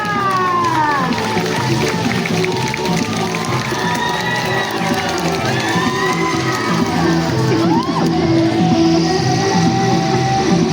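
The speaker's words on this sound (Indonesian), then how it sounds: "Berikan tepuk tangan yang meriah" A large crowd cheers, claps and shouts at a school grand opening, with children's high voices and whistles rising over a steady roar.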